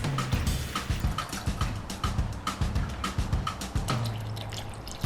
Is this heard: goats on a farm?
no